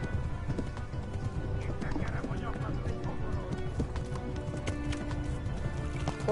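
Horse hooves clip-clop at a gallop in Kingdom Come: Deliverance, a steady fast rhythm close and loud over game ambience and music, with a voice urging the horse on.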